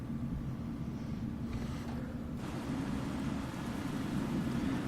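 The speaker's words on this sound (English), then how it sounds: "This truck seems to be revving like mad," Truck engine in Euro Truck Simulator 2, a Volvo cab, droning and revving hard at a steady level, a dense low rumble that fills the whole clip with no pauses.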